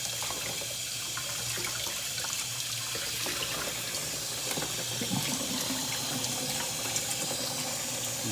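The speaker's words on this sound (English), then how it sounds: "I am using cool water to rinse this." A doll wig being rinsed under cool running tap water, a steady splashing stream from the faucet into the sink, close and continuous at an even level with no talking.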